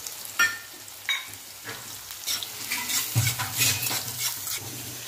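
Finely chopped onion, garlic paste and asafoetida fry in oil with cumin, a close sizzle broken by repeated spoon scrapes and taps against the pan as the mixture is stirred.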